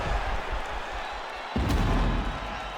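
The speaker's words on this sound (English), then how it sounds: "the crowd voicing its appreciation after that round" A UFC arena crowd applauds and cheers after a welterweight main-event round, a broad, continuous roar that swells louder about halfway through and holds steady.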